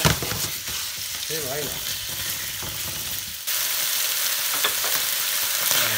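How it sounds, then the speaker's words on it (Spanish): Pork meat frying over high heat in a pan, a loud continuous sizzle with stirring scrapes, briefly under a short spoken word. "Tenemos que se fría toda la carne, bien frita."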